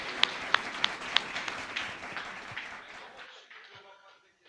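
Applause rises from a church congregation for the Lord, a few sharp distinct claps up front blending into softer scattered clapping that fades out toward the end.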